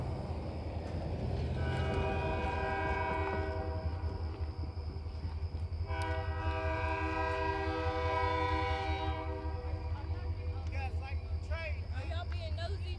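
A Kiamichi Railroad train in Idabel, Oklahoma rumbles by steadily with a low roar, its horn sounding in two long sustained blasts over the continuous rolling noise.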